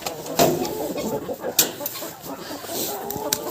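Chickens cluck in a farmyard pen among turkeys and ducks, scattered short clucks near and far with brief sharp noises, no talk over them.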